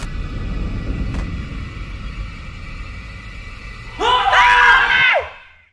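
A loud, high-pitched scream of terror bursts out near the end, sustained for about a second over a low background rumble and hum before cutting off abruptly.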